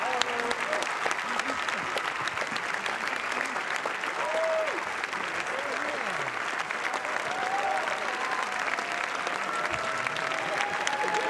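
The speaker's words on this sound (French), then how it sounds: "Je vous laisse écouter l'ovation que leur réservent les festivaliers." Dense, sustained ovation from a packed festival crowd inside the Palais at Cannes 2017, greeting the team of the film Good Time, with the Safdie brothers arriving; steady roaring applause throughout with voices mixed into the din.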